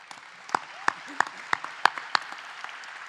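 An event audience gives a round of applause, heard as a handful of sharp, evenly spaced claps standing out over a soft background wash of distant clapping.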